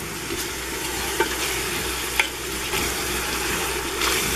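Onions fry in a pan while being stirred, a steady broad sizzle running throughout with a couple of brief scraping knocks, close and fairly loud, no voices.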